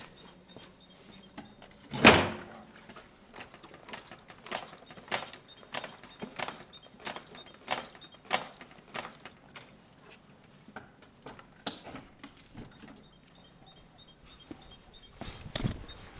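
A Gilera DNA 125 scooter is bounced on its front forks, giving a sharp knock at the start, then a regular series of soft clunks and creaks as the suspension compresses and rebounds.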